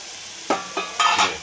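Crushed curry leaves hit hot oil for a snake gourd and oilcake curry, giving a few short, close crackling bursts of sizzle.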